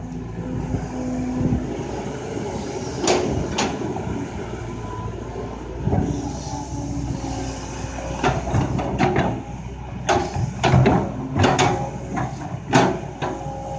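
A Kobelco SK200 Super XM excavator digs a drainage ditch in a sugarcane field, its engine droning steadily with rising revs and intermittent knocks and scrapes of the bucket, heard from nearby outdoors.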